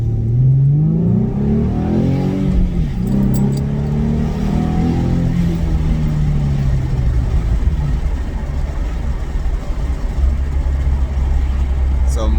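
A 2013 Ford Mustang V6 fitted with new mufflers accelerates, its engine note climbing in pitch through a couple of revving pulls before settling into a steady lower drone, loud and close.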